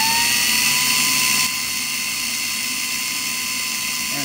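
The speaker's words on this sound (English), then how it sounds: "And you'll just start your drill" A high-pitched power drill whines steadily while spinning to polish a Pinewood Derby axle, loud at first, then drops to a somewhat lower, continuous spinning hum.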